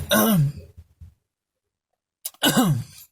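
A short, voiced throat clearing followed by a couple of faint catches, a pause of silence, then a second harsher throat clearing, close to the listener.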